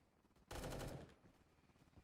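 A short burst of rapid gunfire in a Roblox video game erupts, loud and close, lasting about half a second before fading into quiet background.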